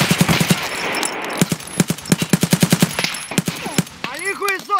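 Rapid automatic gunfire in Escape From Tarkov on the Shoreline map, long loud bursts of closely spaced shots with brief pauses between strings, and voices shouting over the shooting.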